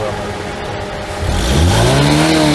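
Ford car engine caught on an iPhone, idling loudly up close, then revving with a rising, climbing note toward the end.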